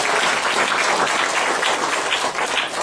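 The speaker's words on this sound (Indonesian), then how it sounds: "Tepuk tangan bagi Tuhan hari ini" A church congregation claps together during a sermon at a Semarang seminar, producing a sustained, fairly loud wash of overlapping hand claps with no voices standing out.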